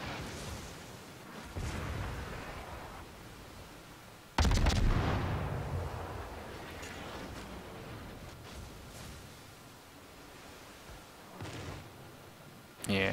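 Naval gunfire in the World of Warships video game, aimed at a North Carolina battleship: heavy booming salvos that arrive in irregular bursts, with one especially loud blast partway through, set against a constant rumbling battle din.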